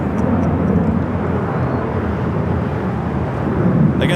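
Airliner bound for Tokyo Narita lining up on runway 24 left at Los Angeles LAX airport, a loud steady jet engine roar with wind buffeting and no talk.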